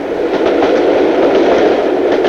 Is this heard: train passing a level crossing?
yes